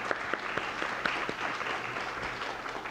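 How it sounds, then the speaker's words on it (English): Applause from a conference audience after a talk by a guest speaker, a steady wash of many hands clapping with a few sharper claps standing out, moderately distant and fairly quiet, with no talk over it. "give him another round of applause"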